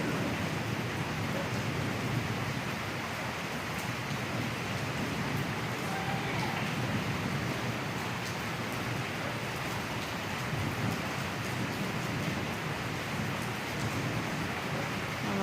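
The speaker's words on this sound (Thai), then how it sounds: "ฟังเสียงฟ้าเสียงฝนกันนะคะ" Steady storm rain pours down in Pakistan in a dense, continuous hiss with a low rumble of thunder underneath, and no voices.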